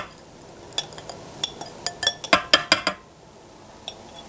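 Whisk or spoon stirring flour and milk batter in a mixing bowl for a coconut lemon mousse cake, a series of sharp clinks and scrapes against the bowl in an irregular rhythm, then quieter.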